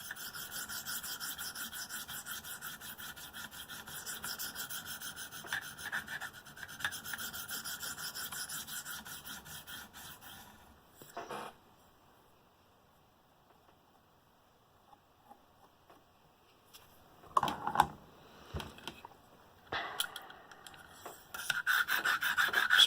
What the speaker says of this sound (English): So we're still going with the 300 grit stone here